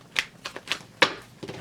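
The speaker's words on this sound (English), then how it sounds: "2 more shuffles, and then we're going to rock this deck." A tarot card deck is riffled and shuffled by hand in quick uneven snaps, with about five crisp bursts of card noise close to the microphone and no talking.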